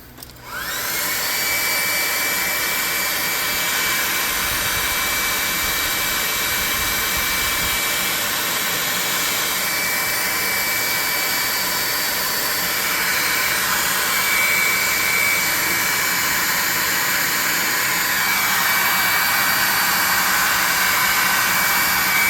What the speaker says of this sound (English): I'm going to hit this with a hairdryer quickly.